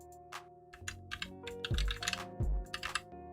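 Typing on a computer keyboard during a Photoshop session: a close, busy run of crisp key clicks in irregular bursts, with a couple of heavier thumps, likely the space bar or enter key, and no voices.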